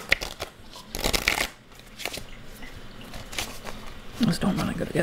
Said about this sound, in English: so I'll give that one more shuffle. One more good shuffle.